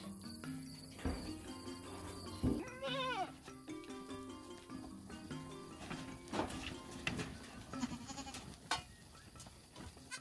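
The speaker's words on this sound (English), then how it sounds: "Today we will be checking on the goat." Goats in a farm pen give several loud, wavering bleats at irregular intervals, heard close over steady chirping insects and ambient outdoor noise.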